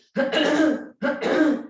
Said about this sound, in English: Clear the throat again